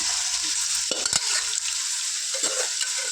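Mutton pieces sizzle in about 250 grams of hot oil while being fried for gongura pickle, a steady close hiss broken by a few stirring scrapes.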